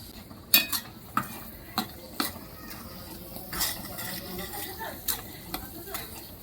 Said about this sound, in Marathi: हे जे वाटण आहे ते मसाल्यामध्ये चांगलं परतून घ्यायचे.